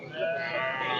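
A ram bleats once at the Zharkent livestock market, a close, sustained wavering call lasting about a second.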